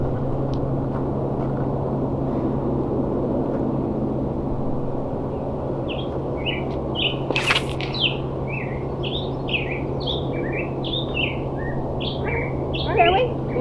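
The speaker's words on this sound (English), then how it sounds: "I know I love the birds here." Birds chirp and sing outdoors on a disc golf course, a run of short bright calls repeating through the second half over a steady low hum, close and moderately loud, with no one speaking.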